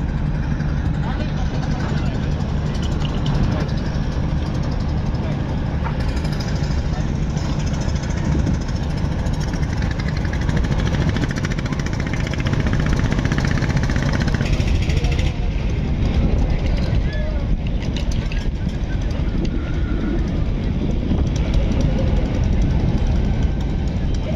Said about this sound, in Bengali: এই 4টি লঞ্চ বরিশালের উদ্দেশ্যে ছেড়ে গিয়েছে আজকে।